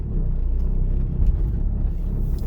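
A car rolling into a driving test area, its low engine rumble and tyre noise steady and fairly close throughout, with no voices.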